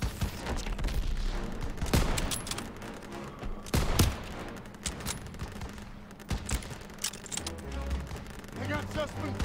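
Gunfire in the Call of Duty: WWII video game during a church sniper mission: several sharp, loud single shots spaced a few seconds apart over rumbling battle noise, with voices speaking between them.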